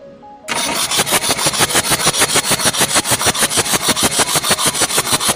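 A diesel engine that will not run, cranked by its starter motor: a loud, rapid, even chugging of repeated compression pulses after a brief quiet moment, continuing without catching.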